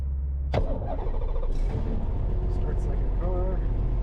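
Engine of a 2008 Jabiru J230 light aircraft cranking and catching, a sharp start followed by a steady idling drone, with someone speaking over it.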